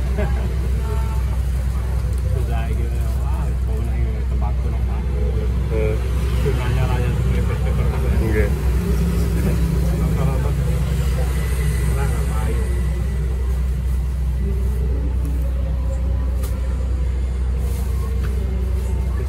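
A bus engine runs nearby with a steady, heavy low rumble that continues throughout while people talk over it.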